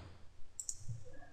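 A computer keyboard key is pressed during 3D software work, giving two quick, faint clicks in close succession against a quiet room.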